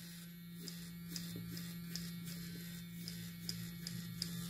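A Gillette Styler electric trimmer runs close by with a steady, low buzzing hum and faint periodic ticks, continuous and alone throughout.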